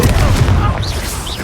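A Confringo blasting spell cast in the video game Hogwarts Legacy, a short booming burst with crackling magical whooshes trailing off, close and loud, with a voice speaking over it.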